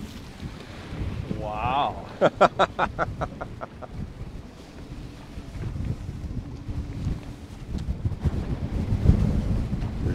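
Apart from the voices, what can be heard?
boat hitting waves in wind on Lake Sakakawea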